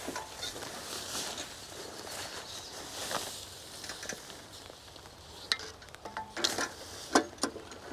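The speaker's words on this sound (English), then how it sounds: "It's sprinkling, and we're done just in time, I think" Light rain sprinkling over a hay field on a draft horse farm, a soft, continuous patter with scattered sharper ticks that grow more frequent near the end.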